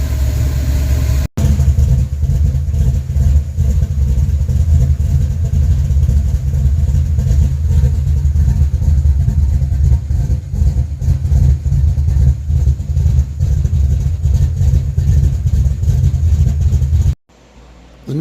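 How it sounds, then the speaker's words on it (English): A car engine, recently given a little choke, idles steadily and loudly at close range with a low, even rumble that runs unbroken for about fifteen seconds before cutting off abruptly. "Gave it a little bit of choke, and it's idling just fine now."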